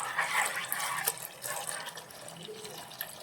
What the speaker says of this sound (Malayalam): നമുക്കിതിലേക്ക് രണ്ടാം പാല് ചേർത്ത് കൊടുക്കാം.